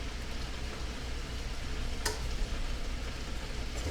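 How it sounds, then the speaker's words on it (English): Beef and broccoli stir fry sizzling steadily in a pan while it is stirred, a constant crackling hiss with one brief scrape of the utensil partway through. "let's give it a stir"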